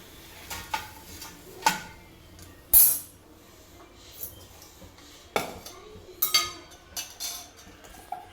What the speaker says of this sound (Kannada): ಈಗ ನಾನು ಇದನ್ನು ಪ್ಲೇಟಿಗೆ ತೊಗೊತಾ ಇದ್ದೀನಿ